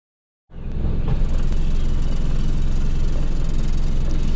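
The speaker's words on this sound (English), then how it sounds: "The first setting is to decrease the engine RPM to 700, so we can demonstrate how vibrations at this level looks like." Car engine idling at a low 700 RPM on a test stand, a steady, loud low rumble that starts abruptly after a brief silence and holds constant throughout.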